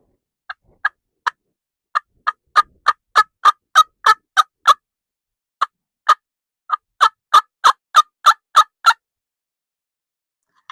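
Handmade wooden turkey call with a small sound chamber and lip, imitating a turkey's gobble in rapid bursts of sharp, clucking yelps, close and alone in silence.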